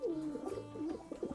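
A pair of Lakka breed pigeons, a male and a female, give low, rolling coos close by, repeating in soft pulses with no other sounds.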